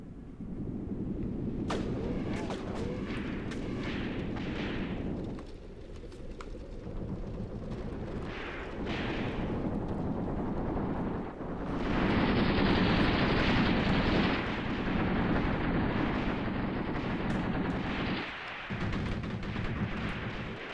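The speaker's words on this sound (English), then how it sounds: "Alright, look at that, some return fire" Return gunfire and heavy blasts echo across a modern war video game battle as South African forces assault an Angolan base. Loud rolling booms and crackling shots continue for about twenty seconds, with a louder surge midway and no talk.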